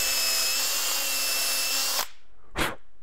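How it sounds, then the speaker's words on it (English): A hand drill whines steadily while trimming a pumpkin-seed-infused resin pen blank, then stops abruptly, followed by a single short sharp knock; close and fairly loud, with no talk. "So I just use a hand drill."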